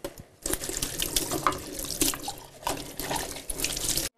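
Dishes are washed by hand under an ice-cold running kitchen tap in a far-northern Russian town: a steady splashing stream of water with clinks and rattles of crockery, fairly close and faint, with no voices.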